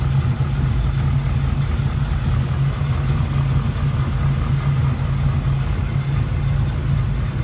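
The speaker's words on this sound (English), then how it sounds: "And small block Chev 350 paired up with that automatic transmission turbo hydromatic 400." A 1967 Pontiac Firebird coupe with a small block Chevy 350 V8 and Turbo Hydramatic 400 automatic idles steadily up close, a low, even rumble with no other sounds.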